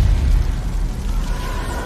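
Deep rumbling blasts of a bombardment in an animated sci-fi series roll continuously, a loud low-frequency boom that sustains and slowly fades.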